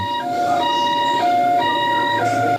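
An ambulance siren wails at a road crash scene in Changhua, Taiwan, a loud two-tone cycle repeating steadily over background traffic rumble.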